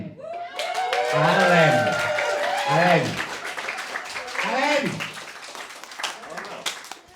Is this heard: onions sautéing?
no